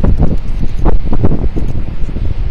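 High wind gusting strongly around small HY Energy Windmax wind turbines, a loud, roaring rumble with heavy buffeting on the microphone throughout and no voices.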